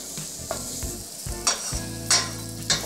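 Meat and onions sizzle steadily in a hot pan while a utensil scrapes and stirs them in a few distinct strokes, close up.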